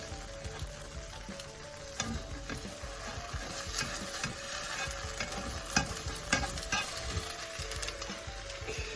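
Pancake batter sizzling steadily in a hot frying pan, a continuous close crackle and hiss with occasional faint clicks and scrapes.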